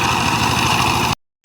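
A power tiller engine chugging in a field, a loud steady close rumble that cuts out briefly and then resumes.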